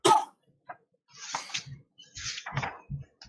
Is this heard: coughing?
yes